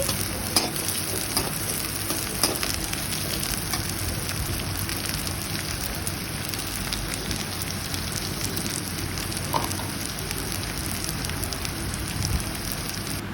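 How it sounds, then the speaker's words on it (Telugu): Mint and coriander leaves fry over low heat in a pan with a dense, continuous crackling sizzle and occasional stirring scrapes, steady and close throughout. "పుదీనా కొత్తిమీర వేసుకొని మంచిగా సిమ్లో పెట్టుకొని మంచిగా వేయించుకోవాలి ఇవి వేగుతుంటాయి"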